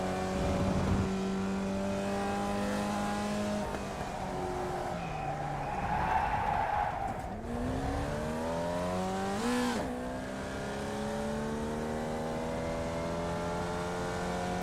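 A Formula Vee race car in iRacing drones steadily with rising and falling engine pitch as it shifts gears through the lap, a continuous close buzz with occasional tire scrub.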